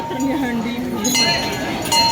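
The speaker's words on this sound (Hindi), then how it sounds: "घंटी बजाई दी" A temple bell rings with a bright metallic clang and lingering tone, heard beneath people talking and background chatter at a temple at Gadhimai.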